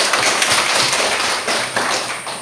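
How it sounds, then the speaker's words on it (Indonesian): A classroom of students claps together, giving a dense, steady burst of applause that lasts the whole moment without any talking. "Kita berikan tepuk tangan"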